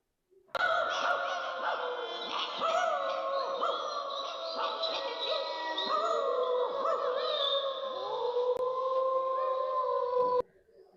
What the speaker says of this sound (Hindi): कुत्ते भौंकते ही रहते हैं, लेकिन कुत्ता रोए रात के अंधेरे में